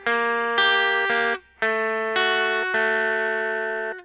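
Blues lick in E on guitar, a run of cleanly picked single notes and short phrases with ringing sustained tones, close and clear with no talking.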